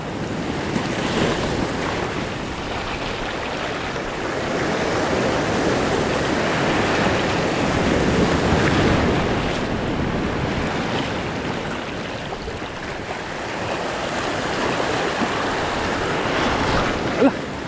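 Strong surf pounding the shore during rain, a dense continuous roar of breaking waves and wind buffeting the microphone, loud and sustained with slow surges in intensity.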